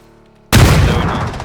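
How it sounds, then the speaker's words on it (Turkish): A bomb explosion in PUBG on the Miramar desert map, a sudden loud boom after a brief quiet moment, followed by a heavy rumbling decay that stays strong until the end. "Bomba geldi, bomba geldi."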